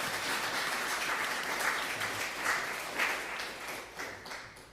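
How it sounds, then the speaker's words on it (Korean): A church congregation claps together to welcome newcomers at a Sunday service, a dense, steady wash of applause that swells and fades in waves, filling the room with no voices over it. "우리 옆에 있는 분들 박수로 환영하겠습니다."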